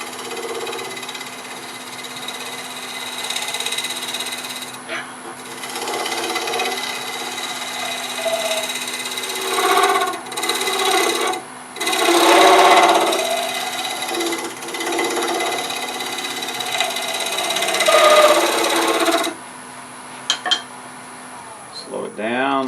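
A shear scraper cuts a spinning wooden workpiece on a woodturning lathe, giving a steady scraping hiss over the lathe's constant hum, with louder bursts as the tool bites and eases off.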